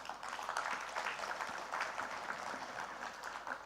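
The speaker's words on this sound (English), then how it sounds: "A round of applause to the ministers." Steady, dense applause fills a hall as an audience claps for the ministers at the launch of Phase One of the National Energy Transition Roadmap, a close, continuous wash of many hands with no pauses.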